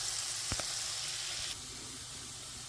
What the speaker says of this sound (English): We're just going to saute these until they're glistening for about 2 minutes or so.